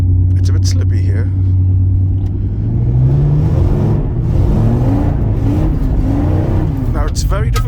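A powerful car that has not moved in over a year rumbles loudly up close, its engine rising and falling through a couple of revs, with a voice talking over it.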